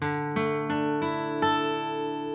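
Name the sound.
acoustic guitar chord strummed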